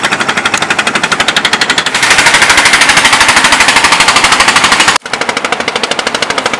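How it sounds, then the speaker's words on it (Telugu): Boat motor running at high speed, a loud rapid rhythmic chugging with a steady rattle, intensifying midway and briefly cutting out before resuming. "చాలా స్పీడ్గా వెళ్తున్నాయి బోట్లో."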